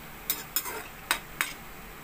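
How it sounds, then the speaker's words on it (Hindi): Onions fry in a pan until browned, with a faint sizzle under four sharp scraping clacks of a spoon stirring against the metal, spaced unevenly. "बराबर सी प्याज भून जाए चारों तरफ से"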